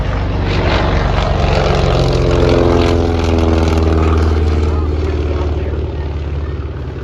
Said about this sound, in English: Dauntless lands out in front of us, coming by for another pass